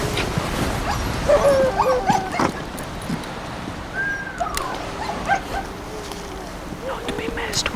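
Sled dogs near Churchill bark, yip and whimper excitedly together, a busy close chorus of high whines and short barks, with people talking among them.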